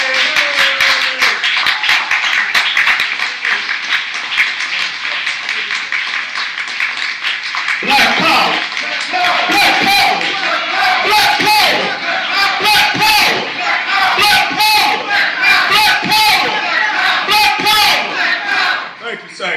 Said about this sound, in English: We're going to give a round of applause to our good brother